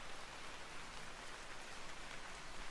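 Steady downpour striking forest leaves above in Vintage Story, a thick, unbroken rush of droplets at even loudness, heard alone without speech.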